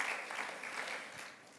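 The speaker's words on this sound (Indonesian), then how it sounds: "Berikan tepuk tangan lagi bagi Tuhan Yesus" At a Sunday church service, a congregation gives soft, distant applause that fades toward the end.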